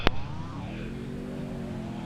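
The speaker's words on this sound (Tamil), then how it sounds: "வண்டியை நான் எடுத்துகிட்டு போகிறேன்டா" A vehicle drives in a battle royale video game, its engine a steady mid-pitched hum that rises and falls slightly after a brief sharp click at the start, with no voices over it.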